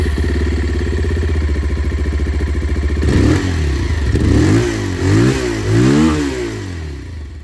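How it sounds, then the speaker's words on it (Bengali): A 2026 Bajaj Pulsar 180 motorcycle exhaust idles with a steady, close thump, then revs up several times in rising and falling bursts, loud and with no voices. "এটা পালসার 180-র আওয়াজ ছিল"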